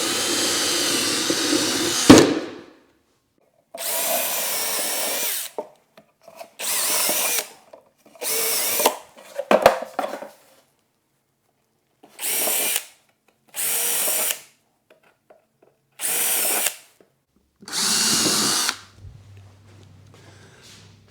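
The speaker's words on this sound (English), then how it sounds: "I always pre-drill my holes so my screws can get through there more easily" Repeated bursts of a power drill pre-drilling holes through wooden boards, about nine short whirring runs of one to two seconds each separated by silence, close and fairly loud.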